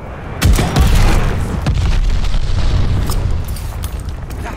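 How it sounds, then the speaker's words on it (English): An enemy glide bomb in Call of Duty: Vanguard multiplayer detonates with a sudden loud boom, followed by a long rumbling roll of debris and crackle that slowly fades, with scattered gunfire nearby. "Heads up, enemy glide bomb coming in hot."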